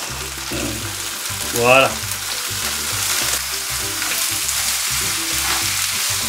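Fresh green, red and yellow bell peppers fry in a pan with a steady close sizzle throughout, a brief clatter of stirring partway, and a single short spoken word over the cooking.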